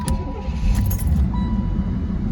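A Chevrolet C4 Corvette with digital gauges has its ignition switched on: a short warning chime rings over a steady low rumble inside the car, with a faint jingle of keys.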